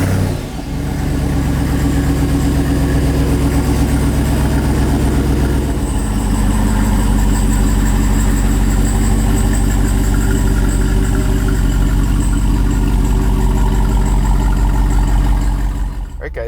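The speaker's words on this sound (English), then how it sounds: "what better place to start on a little startup and test drive than firing it up and hearing how it sounds" A 2021 Jeep Wrangler Rubicon 392 with a Hemi V8 cranks and fires up close by, then settles into a loud, deep, steady rumbling idle that carries on with a slight rise in pitch partway through.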